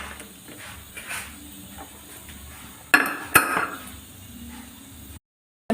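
A metal pressure cooker lid and its weight go on while mutton gravy cooks. A low clattery rumble is followed by two distinct metallic clinks close together, then brief silence.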